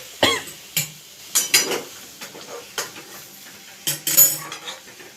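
A lid goes onto a pot of cooking chicken curry, giving a handful of sharp metallic clanks and clatters spaced irregularly over quiet kitchen background.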